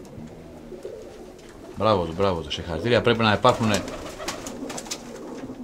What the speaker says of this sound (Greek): Γέμισε το κουμάσι περιστέρια.